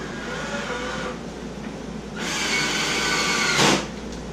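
A power drill drives a screw into a wooden cornhole frame, heard up close as a whirring burst that swells and peaks sharply before cutting off.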